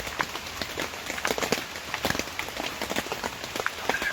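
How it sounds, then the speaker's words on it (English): Steady rain pattering on a surface in Vermont, dense and close, with scattered louder drops and no voices. "It hasn't stopped raining."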